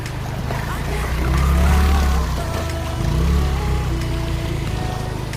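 A motorbike rumbles along a rough road toward a waterfall, with its low engine drone swelling and easing and wind noise over it. A voice is heard faintly.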